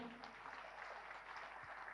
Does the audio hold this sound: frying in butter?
no